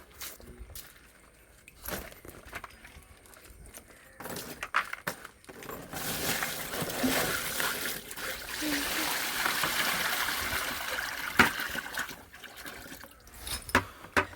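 Water is poured into a fish tank during cleaning, a soft trickling and splashing that swells in the middle and fades, fairly faint, with a person talking around it.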